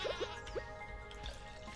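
A sheep in the farming game Stardew Valley bleats in a few quick, faint calls over soft background game music.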